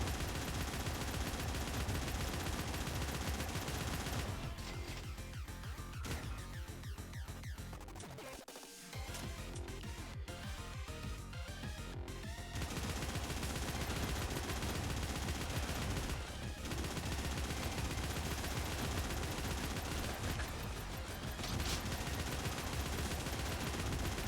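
In the video game Snezhinka: Sentinel Girls 2, a gun platform fires dense, sustained bursts of rapid gunfire, heard as a continuous rattling barrage with a brief pause in the middle.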